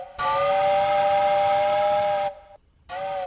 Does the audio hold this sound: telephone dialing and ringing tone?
no